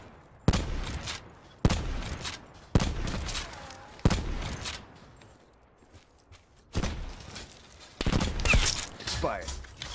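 Gunfire in the Black Ops 4 video game comes as a series of sharp, loud shots at irregular intervals, each one cracking out of a quieter background.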